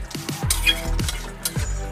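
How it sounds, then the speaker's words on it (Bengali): Spices (turmeric, coriander, cumin and pepper powder) stirred into chicken cooking in a pan for coriander chicken, a run of repeated scraping and clinking spoon strokes against the pan with a soft sizzle underneath. "সব মশলাগুলো দিয়ে নাড়তে হবে ভালো করে।"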